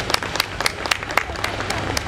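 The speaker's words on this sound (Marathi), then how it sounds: "आपण एकदा त्यांना टाळ्या वाजवून धन्यवाद देऊया" An audience gathered at an outdoor community talk claps in thanks. The clapping starts out sparse and gradually builds, with a few distinct sharp claps standing out against a rustling crowd background.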